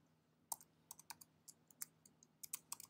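Sparse, irregular keystrokes on a computer keyboard, quiet and close, with separate clicks and short quick clusters in an otherwise hushed room while a command is entered.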